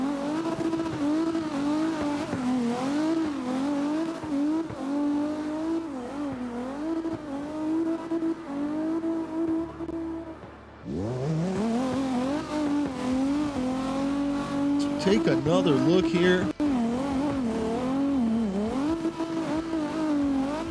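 Race car at Ebisu Circuit, its engine revving hard and shifting pitch through corners, with tire squeal and a sharp dip and surge as it catches air off a concrete barrier; a voice speaks briefly.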